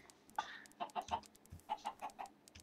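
Chickens in the Minecraft video game clucking in short, quick bursts, several clucks in a row with brief pauses, close and clear, no talking.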